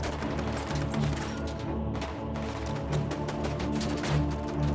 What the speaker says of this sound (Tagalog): nagkaroon ng matinding palitan ng putok